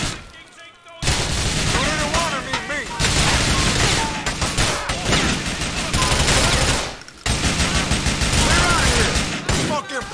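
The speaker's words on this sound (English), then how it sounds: "Shoot out." A chaotic shootout in GTA 4: The Ballad of Gay Tony set in New York, with sustained rapid gunfire and automatic bursts, loud and near, and voices shouting over the shooting.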